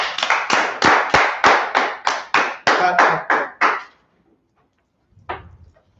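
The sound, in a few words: audience clapping for the class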